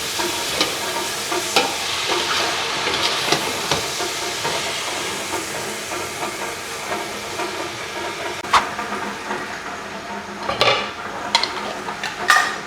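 Ampalaya (bitter gourd) and pork being mixed in a hot pan, with a continuous close sizzle and hiss broken by intermittent scraping and clinking stirs that bunch together toward the end, no voices.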